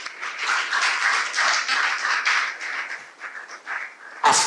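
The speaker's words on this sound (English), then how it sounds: "I think you should clap for them." Audience clapping at a lecture on the health sector brain drain in Ghana, a short burst of fairly close clapping that fluctuates and breaks off abruptly near the end.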